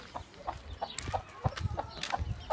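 A broody hen sitting over seventeen chicks gives soft, evenly spaced low clucks at close range, while faint higher peeps from the chicks dot the gaps.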